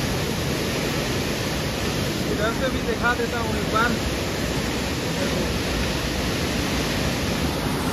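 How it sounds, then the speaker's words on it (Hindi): Swollen Koshi River water pours through the barrage after rising, a steady broadband rush that never lets up, with someone speaking briefly over the roar. "धीरे धीरे इतना पानी पड़ रहा है"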